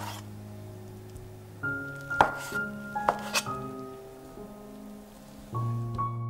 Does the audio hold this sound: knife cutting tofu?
yes